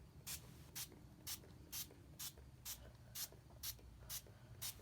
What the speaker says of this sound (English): So just want to spray that one more time.